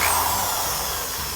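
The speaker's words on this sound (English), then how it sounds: "I've got onto my drill here a 3M ball" Power drill fitted with a 3M polishing ball buffing scratches out of stainless steel, giving a steady close whir with a constant hiss and no voices.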